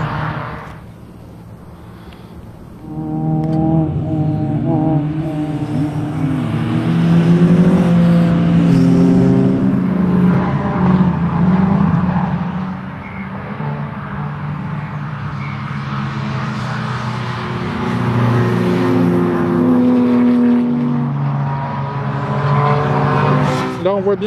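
Several race cars, including small competition cars, modified production cars, a Corvette, an Alpine and a modified Peugeot 106, roar past on the wet Lurcy-Lévis circuit, engines revving and shifting through gears in overlapping waves, loud and continuous, with wind noise.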